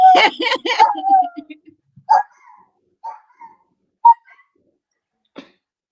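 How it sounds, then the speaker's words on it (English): A dog gives a few short, high whimpers and yelps after a stretch of speech, the whines spaced out and fairly close against otherwise quiet surroundings. "And my dog."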